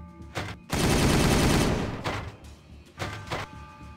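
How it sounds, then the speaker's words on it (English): Heavy gunfire from a Warhammer 40,000 video game battle, Dark Angels versus Ultramarines: a loud sustained burst of shots followed by a few shorter separate volleys and thumps. "Firing on target!"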